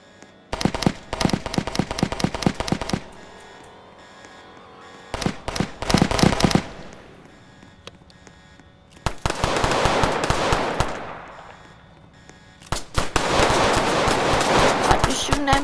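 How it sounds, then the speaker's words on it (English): Rapid bursts of automatic gunfire from a gang-war video game, loud and crackling in several separate volleys with short pauses between, some quieter shooting in the gaps. "I'm shooting him."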